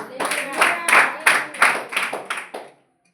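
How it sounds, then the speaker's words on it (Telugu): A church congregation claps loudly and rhythmically during a Sunday prayer service, about eight sharp, evenly spaced claps close by, then stopping abruptly. "గట్టిగా చప్పట్లు కొడుతూ"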